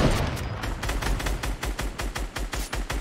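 Rapid, repeated shotgun blasts from a first-person shooter video game, a steady rhythm of loud booming shots packed close together with no pause for about three seconds.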